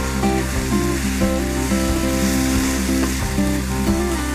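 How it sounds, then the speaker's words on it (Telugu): Chicken with white pepper, Italian seasoning, mint and spices stir-frying in a pan, a loud continuous sizzle close up with faint scraping of the stirring. "Quick round of స్టర్ fry."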